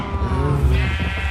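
A Minecraft sheep gives one short, wavering, close bleat that sounds clear and loud, with nothing else heard.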